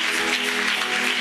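Church congregation applauding, a dense steady wash of many hands clapping at even loudness for the whole moment, with a faint tonal hum underneath.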